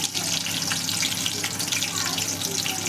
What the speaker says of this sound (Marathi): फक्त 1-1 सेकंद प्रत्येक भाजी परतून घ्यायची आहे तेलामध्ये